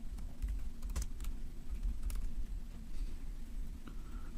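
Rapid clicking of computer keys in uneven bursts, close by, over a steady low background hum.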